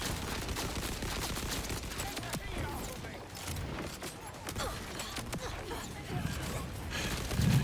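Assault rifle fire in the Borderlands 4 video game, a dense continuous fusillade of rapid shots lasting throughout, loud and close, with the game's other effects mixed in.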